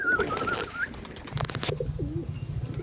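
Pigeons at a Pandharpur loft give low cooing calls, with a few higher chirping bird notes mixed in and some flapping and rustling nearby, all fairly close and steady, with no talking.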